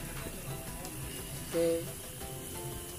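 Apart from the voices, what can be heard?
frying tempe mendoan and fried chicken at a campsite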